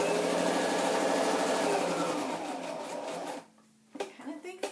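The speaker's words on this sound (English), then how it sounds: "I'm going to try to sew over the sticker." Sewing machine stitching through a sticker on a paper scrapbook layout, a steady close whir running for about three seconds before stopping, followed by light paper handling and taps.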